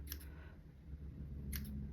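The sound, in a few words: scissors cutting up paper loops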